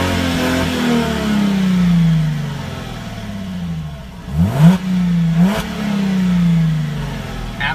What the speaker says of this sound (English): You can make the exhaust louder.